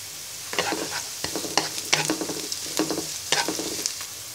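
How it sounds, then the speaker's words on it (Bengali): Onion fries in hot oil with bay leaves, cinnamon pieces and cardamom, a soft sizzle broken by bursts of stirring and spatula scrapes against the pan, close and without voices. "পেঁয়াজটাকে হালকা ভেজে নিব"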